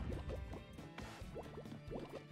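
Poison water in the video game Monster Boy and the Cursed Kingdom bubbles and gurgles with repeated soft plops and drips at an uneven pace, fairly quiet and with nothing else over it.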